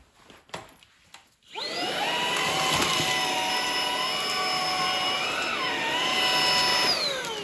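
A cordless stick vacuum cleaner from Xiaomi or Dreame switches on after a brief quiet moment and then runs with a loud, steady high-pitched whine and motor hum that holds to the end.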